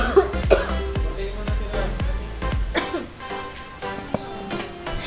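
Several sharp coughs and throat clearings punctuate the clip, close to the microphone, with some tonal background sound between them.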